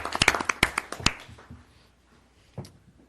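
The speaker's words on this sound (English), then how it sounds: "I think they all deserve a real round of applause." A few people clap at a county board of commissioners meeting, with scattered, close claps that thin out and fade within about a second and a half, followed by a quiet stretch and one brief later knock.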